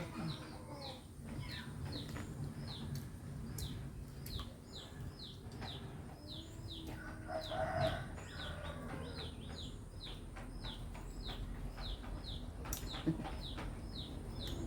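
Chickens foraging in a rural yard give soft clucks amid a busy backdrop of rhythmic, chirping insect or bird calls, all faint and distant, with no talking.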